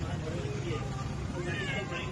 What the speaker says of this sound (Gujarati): મિયાઉ મિયાઉ કરે છે.